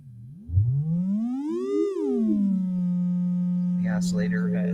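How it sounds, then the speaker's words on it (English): A synthesizer oscillator with a self-oscillating filter produces a pure tone that swoops up and back down in pitch, then holds a steady drone, with a brief noisy burst near the end. "it sounds like an oscillator for sure"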